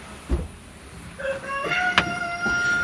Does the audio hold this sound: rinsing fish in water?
no